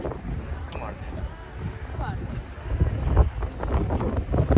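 Strong, gusty wind on a hillside in Japan buffets the microphone with low, rumbling rushes that swell louder toward the end, while a person talks through it.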